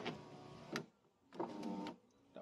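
Power window motor on a Honda runs in two bursts while a new window switch is tested before being bolted down, a steady electric whir under a second each, separated by a short pause and ending with a brief third start.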